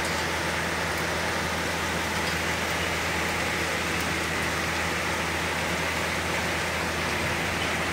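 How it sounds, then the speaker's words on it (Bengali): Heavy rain pouring just outside a window, a dense steady hiss of downpour that stays loud and unbroken the whole time. "বুঝতে পারছো কত জোর বৃষ্টি এসছে?"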